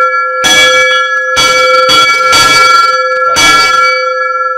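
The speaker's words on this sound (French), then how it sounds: "on va faire sonner les cloches" Cast bells rung at the Cornille-Havard bell foundry in Villedieu-les-Poêles, loud close strikes in several bursts with a long ringing tone that hums on between hits.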